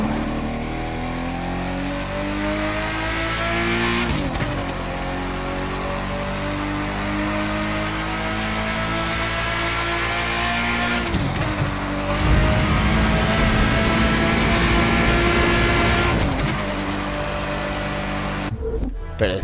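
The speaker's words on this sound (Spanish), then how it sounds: "Me ha encantado cómo suena, ¿eh? Suena puro Lamborghini." A 1999 Lamborghini GT in The Crew 2 racing game roars loudly through long gears, its engine climbing in pitch with each rev and dropping sharply at several gear changes, steady and close throughout.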